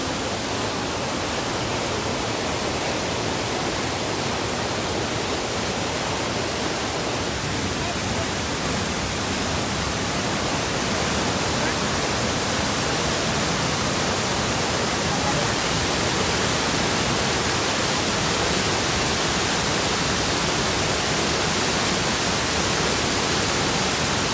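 Strong rushing stream water pours steadily at Ping Nam Streams in Hong Kong on a rainy day, a dense, loud, unbroken roar filling the whole stretch with no pauses.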